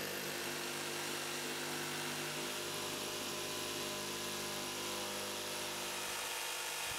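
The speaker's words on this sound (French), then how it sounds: "Tout commence par la découpe minutieuse d'une plaque de plastique transparente." A power tool carefully cuts a transparent plastic plate for a miniature building model, giving a loud, continuous whining buzz that holds steady throughout.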